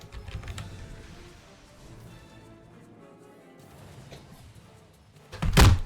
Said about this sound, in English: that was me accidentally knocking my keyboard